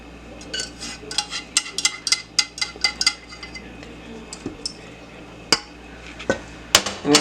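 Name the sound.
mixing peanut butter cake ingredients with powdered sugar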